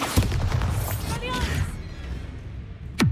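A Bombarda spell blast in the Hogwarts Legacy video game booms amid busy combat effects, with a loud low impact early and another sharp hit near the end, and some voice mixed under the game noise.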